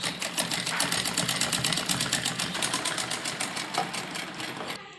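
A sewing machine runs a loose basting stitch around the neckline of a V-shape umbrella frock, with fast, even needle clatter going steadily and fairly close throughout, easing slightly at the very end.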